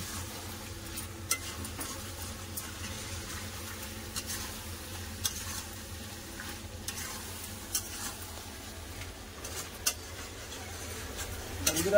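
Chicken biryani masala being stir-fried in a pan, a steady low sizzle with light scraping and clicking of the spoon stirring throughout, close and moderately quiet.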